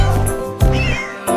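Cats meow in quick succession, three or four close, loud, drawn-out calls over a short stretch, with a tonal musical bed running beneath them.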